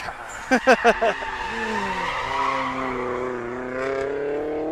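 Drift cars at Sebring produce tire squeal and engine roar, with a few sharp bursts early on followed by sustained howling skids, and faint talk underneath.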